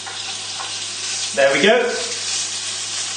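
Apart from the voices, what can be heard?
bacon sizzling in oil in a frying pan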